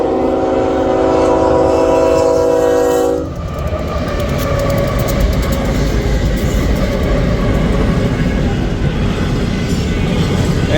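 An eastbound extra freight train on a short stretch of single track west of Mo Valley sounds a loud, sustained horn for about three seconds, then heavy rumbling and clattering wheels roll past close by.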